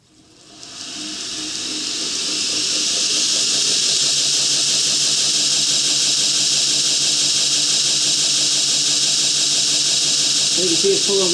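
A Heretic H2 2x72 belt grinder with a 2 HP motor on 110 volts spins up from a standstill to a loud, steady whine and hiss, then holds at a constant running pitch with no one talking.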